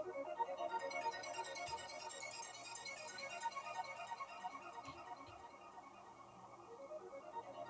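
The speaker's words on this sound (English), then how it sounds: "This is an atmospheric background sound which plays all the time." A soft, continuous synth arpeggio pulses in quick, even repeating notes as the atmospheric background layer of a trance track, faint and unaccompanied by voices.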